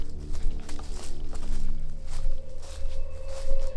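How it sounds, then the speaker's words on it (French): Footsteps move through a haunted forest at night, giving a series of irregular crunching steps close by against a steady low background hum and faint night ambience. "J'entends des bruits de pas autour de moi."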